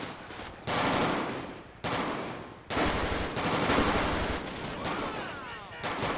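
Rapid automatic gunfire in GTA 5 during a police gang-unit patrol, loud bursts of shots in long sustained volleys broken by brief pauses, with no speech over them.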